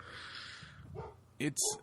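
A pet dog gives a few short, faint yips and whimpers close by, reacting to a noise, brief and mixed with someone talking.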